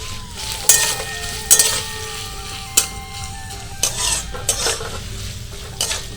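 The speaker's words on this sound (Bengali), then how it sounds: "এবার ভেজে নেব।" Carrot, green chili and ginger paste stir-fried in a pan for veg chowmein sizzle steadily, while a spatula scrapes and clinks against the metal in repeated sharp strokes.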